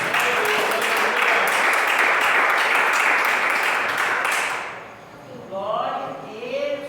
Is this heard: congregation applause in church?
yes